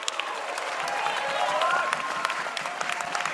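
Home fans at a rugby league match applaud from the stands, steady crowd clapping with sharper individual claps, while a commentator keeps talking over it.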